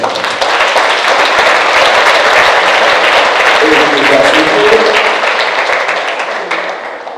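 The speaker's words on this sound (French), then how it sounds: "Ça s'applaudit quand même." A crowd at a reception honoring baccalaureate graduates in Saint-Claude applauds a top score, a loud, dense, sustained clapping that holds steady for several seconds and then slowly thins out.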